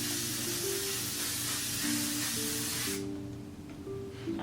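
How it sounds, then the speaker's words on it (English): An aerosol can of L'Oreal Infallible 3-second setting mist sprays in one long, loud, even hiss for about three seconds, then cuts off and leaves faint room noise. "It looks like it sprays evenly like a makeup aerosol, I mean like a hairspray aerosol can."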